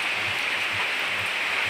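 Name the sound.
heavy rain during a storm over a village field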